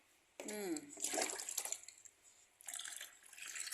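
Water splashes and pours in short bursts, close by, while a newborn baby boy is bathed, with a voice and adult speech mixed in.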